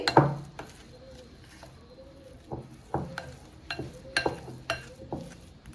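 A spoon stirs powdered sugar into a mixture in a bowl for homemade wheat-flour biscuits, making scattered clinks and scraping taps against the bowl in an uneven rhythm, close and fairly quiet.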